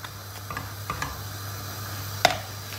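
A spoon stirs red lentil soup in a pot, making faint scraping and soft ticking taps against the metal, with one sharper clink near the end, all over a low steady hum.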